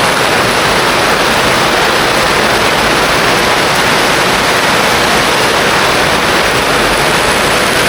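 Heavy rain pours down onto a roof in a dense, steady roar that stays loud and unbroken throughout, with no voices.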